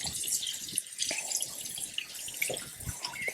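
Tap water running as hands are washed in a kitchen sink, a steady splashing hiss with small drips and splatters throughout.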